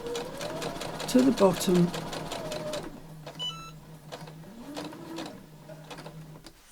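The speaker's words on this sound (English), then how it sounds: "I'm going to sew down" A sewing machine stitches a patchwork seam for a tablet pouch in a short burst of rapid stitching, followed by quieter mechanical clicks and a low hum, close by, with a person talking over it.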